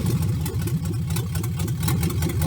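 A 1967 Pontiac engine fires up after a fuel rail change and runs with a steady, throbbing, lumpy idle, close and loud throughout.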